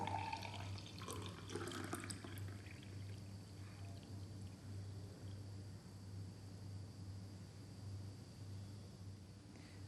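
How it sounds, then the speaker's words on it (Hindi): Water is poured steadily into a glass in a classroom measuring demonstration, a continuous soft trickle that runs for several seconds and thins out, close and quiet, with no talking. "इस ग्लास को हम पानी से भर देते हैं।"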